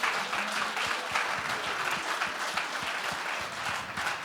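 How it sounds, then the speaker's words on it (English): An audience applauds the winner announcement of a startup brewery competition, a steady, fairly quiet wash of many hands clapping with no talk over it. "Big round of applause."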